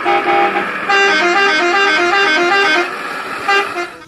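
A toy telolet bus horn plays a loud, close, bright melodic tooting tune, several musical notes in quick succession with brief pauses, alone without talk.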